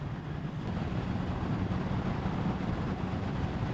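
A classic Suzuki GS750E motorcycle is out riding, with a faint, continuous low engine and road rumble and no talk.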